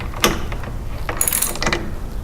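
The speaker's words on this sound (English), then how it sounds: "Using a 1/2-inch socket wrench, you will loosen the wheel mounting bolt by turning it counterclockwise." A 1/2-inch socket wrench ratchets as it loosens the wheel mounting bolt on a Toro Recycler lawn mower, giving a few short, close clicking bursts with brief pauses between them.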